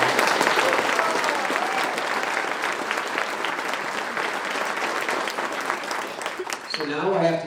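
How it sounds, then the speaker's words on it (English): A luncheon crowd at a chamber of commerce awards event gives a long, dense round of applause that fades slightly, ending with a voice speaking over the last clapping. "one more round of applause, please"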